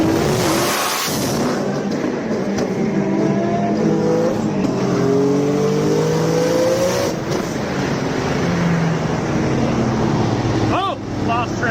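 A modified car revs hard and loses traction, its loud engine note climbing and wavering over a tire squeal, with people talking over the noise throughout.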